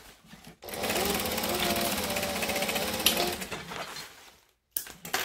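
A sewing machine runs in a long steady burst while stitching a fabric lunch bag, a dense mechanical whir that stops after about four seconds, followed by brief softer handling noises.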